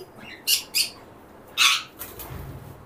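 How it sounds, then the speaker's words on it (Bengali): A pair of white cockatiels in a lovebird aviary gives several short, shrill squawking calls at close range, with quieter background noise between them. "তারপর এইখানে আছে এক জোড়া সাদা কোকাটেল।"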